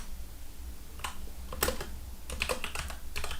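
Keystrokes on a computer keyboard as a project name is typed into a C# Windows Forms app setup, coming in short clustered bursts of clicks over a quiet room background.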